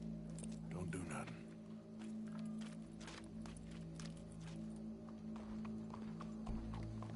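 Horse hooves clip-clopping at a walk in the Red Dead Redemption 2 video game, a steady series of soft thuds over a low ambient hum.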